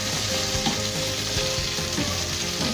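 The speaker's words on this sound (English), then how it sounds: "Then we're going to put our onions, let them fry." Onions frying in about a tablespoon of oil for chicken, a loud dense sizzle with bubbling crackle filling the whole stretch, steady and close, no speech.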